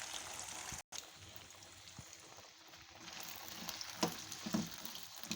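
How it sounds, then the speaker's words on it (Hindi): Finger chips sizzle in hot oil in a home kitchen, a soft, steady crackle with a few stronger bursts, faint and close. "अब हम इसमें जो है वो अपने फिंगर चिप्स को जो है फ्राई करने के लिए रख देंगे।"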